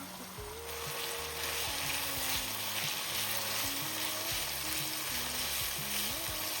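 Carrots sizzling in a pan with softened onion, a steady, close frying hiss throughout with no talk.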